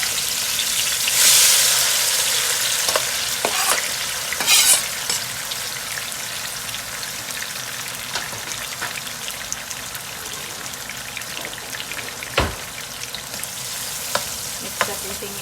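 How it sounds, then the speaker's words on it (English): Sliced bitter gourd (karela) hits hot oil and fries with a loud, steady sizzle and crackle, close up, with a brief stirring clatter and spatter bursts over the hiss. "So we're gonna get into the frying process of this delicious Karela"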